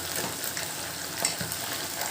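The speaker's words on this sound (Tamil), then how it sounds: "அப்படியே வந்து லைட்டாக அப்படியே கிண்டி விட்டுட்டு மீடியம் ஃப்ளேமில் வச்சு குக் பண்ணுங்கள்" Squid 65, battered squid pieces, frying in hot oil over a medium flame while being stirred, with a steady close sizzle and crackle running throughout and occasional soft scrapes of the spoon.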